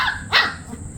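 A single sharp bark from a bully kutta dog rings out nearby, one short loud burst over quiet background with no talk.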